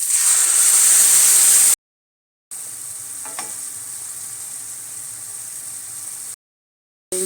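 Steady loud sizzle of tomatoes dropped into hot oil with onion, green chili and curry leaves for a lamb trotters curry, broken by two short silent gaps, with a faint stir scrape partway through.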